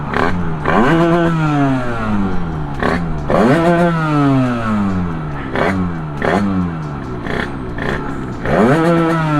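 A Sherco Supermoto 50 with a big bore AM6 engine revving hard and close, repeated sharp throttle blips that climb and fall in pitch about every second, loud and without talk.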